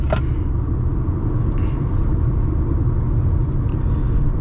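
Maruti Brezza 2026 facelift with its 1.0-litre turbo engine, cruising in fifth gear at 100 km/h: a steady, loud low droning cabin rumble of engine and road noise that runs unbroken throughout, with no voices.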